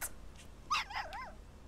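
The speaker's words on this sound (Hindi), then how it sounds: "वाकई में पिल्ला है भाई कुत्ते का।" A puppy in the Days Gone video game whimpers and yips in short, rising whines, fairly close and moderately loud, over a faint low game background hum.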